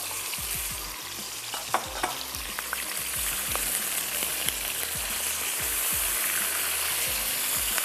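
Chicken pieces sizzle and fry in a pan of hot oil with coconut and spinach masala ingredients, a steady loud crackle with repeated stirring scrapes and clinks, no voices.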